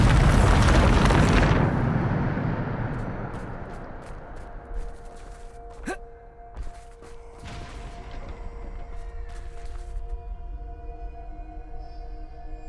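Bombarda spell explosion in Hogwarts Legacy, a loud close blast that rumbles and slowly fades over several seconds, followed by scattered debris clatters and lingering tonal hums.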